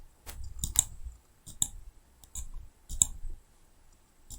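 A computer mouse clicks sharply and close by, a few spaced single and double clicks over a quiet background, with no voices.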